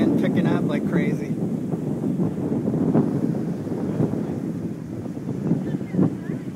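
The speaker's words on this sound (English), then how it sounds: "So you can probably hear the wind picking up like crazy." Strong gusting wind during tornado weather in Keller, Texas, roaring steadily and loudly across the microphone for several seconds with rumbling low buffeting and no clear talk.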